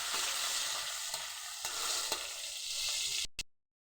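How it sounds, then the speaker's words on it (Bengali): Tomato and onion frying in oil for a fish curry, a continuous close sizzle with occasional stirring scrapes, stopping abruptly near the end. "ভালোভাবে ভেজে নেব টমেটো আর পেঁয়াজটাকে।"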